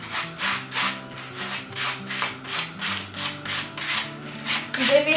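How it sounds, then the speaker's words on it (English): A sanding block rubs back and forth along a paper edge on a wooden heart in about a dozen rhythmic, evenly spaced scrapes, close and fairly loud, with soft music playing underneath. "this is where your sanding block comes in."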